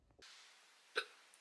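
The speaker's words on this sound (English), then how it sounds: "I've got hiccups." One soft hiccup, a short, sharp catch of breath in a quiet indoor setting with faint background hiss.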